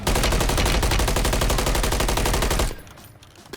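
Rapid automatic gunfire in the video game Warzone, a dense, loud, evenly spaced burst lasting a few seconds before cutting off into quieter background noise.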